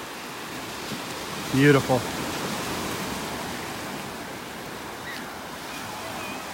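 Gentle ocean surf rushes continuously on the beach at Delnor-Wiggins in North Naples, Florida, with someone briefly speaking over the steady wash.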